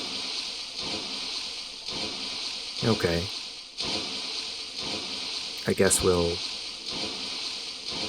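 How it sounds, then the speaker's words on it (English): A steady hissing, gushing water effect runs throughout a Heaven Dust 2 game scene, a constant flowing spray with a brief voice cutting in twice. "that water sound effect is kind of grating"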